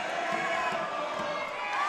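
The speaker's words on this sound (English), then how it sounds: "And the crowd's starting to make some noise." Basketball crowd in a college gym during a men's game, a steady dense roar of many voices rising at the free-throw line, with faint squeaks and thuds beneath, filling the whole moment without a break.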